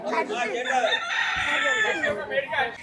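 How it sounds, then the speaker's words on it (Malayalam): A rooster crows loudly and close by in a busy market in Kanyakumari, with a backdrop of other chickens clucking and voices mixed in. "കോഴി"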